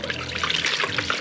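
Coolant pours steadily into the engine of a Nissan 350Z, a close, continuous splashing trickle with bubbling gurgles throughout.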